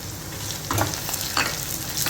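Red and dried red chillies with green chillies frying in oil in a pan for a traditional Chettinad dish, a steady soft sizzle with light stirring scrapes, no talk.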